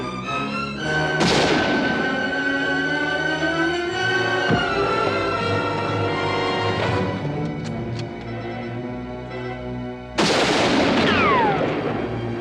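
Sharp gunshots ring out in a shootout from a 1956 western film, with two prominent bursts heard over a loud, sustained orchestral score.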